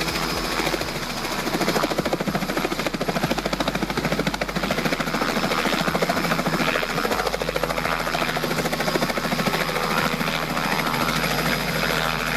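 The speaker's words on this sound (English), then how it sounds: "This isn't just a new helicopter." A Robinson R88 helicopter runs close and loud, its rotor chopping in a steady rapid pulse over a dense, continuous engine roar.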